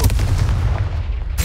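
Fiery Confringo spell blast in the Hogwarts Legacy video game, a sustained booming rumble that stays loud and dense for over a second, alone with no talk.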